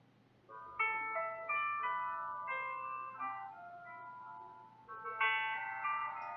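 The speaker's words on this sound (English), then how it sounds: "you can hear that not all the voice is removed, but like most of it is removed" A music track with a voice-removal effect applied plays as a thin, tinny melody of bright sustained tones over a faint low hum, with warbly processing artifacts.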